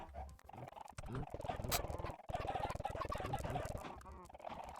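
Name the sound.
chickens clucking in a video game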